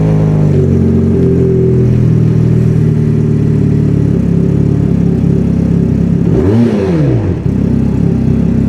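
A fuel-injected Honda CBR 300 sport motorcycle idles steadily up close, loud and constant. Near the end it gives one quick rev that rises and falls, with no talk.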